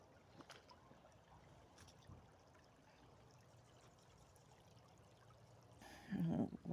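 Shallow creek water runs over rocks along a cold New York trail, a faint, steady trickle and wash close by, ending in a brief louder splash.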